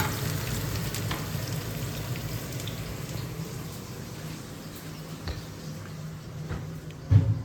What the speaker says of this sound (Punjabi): ਚਟਣੀ ਬਣ ਲੱਗੀ ਪੁਦੀਨੇ ਦੀ ਤੇ ਉੱਪਰ ਤੜਕੇ